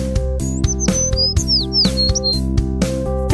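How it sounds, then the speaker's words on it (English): Bright bird chirps and tweets sound in quick succession, loud and close, layered over a steady musical backing in a children's song. "Bird, bird,"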